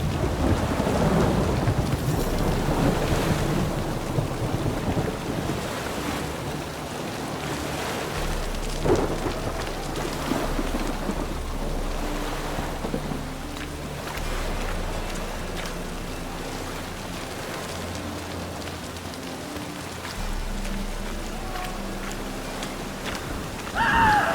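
Heavy rain pours steadily in the video game The Witcher 3, with deep rolling thunder rumbling underneath throughout, dense and loud with no voices.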